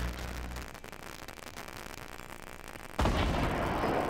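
Enemy gunfire in a Fortnite battle royale match, a dense crackle of shots that runs throughout and then jumps to a louder, harsher burst near the end, with no talk over it.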